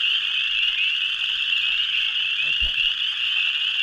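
A continuous, dense chorus of frogs croaks at Clear Creek, steady and loud throughout, with a brief low thump and a single short spoken word near the end.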